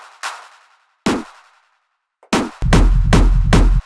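Hard techno drop with a layered clap: a few sparse reverberant hits with gaps, then a dense pounding kick and clap pattern kicking in loud near the end.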